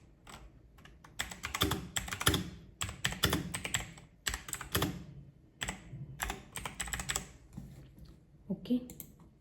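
Typing on a computer keyboard while working with the type tool in Adobe Illustrator, with clear close clatter in uneven bursts of keystrokes and short pauses between them.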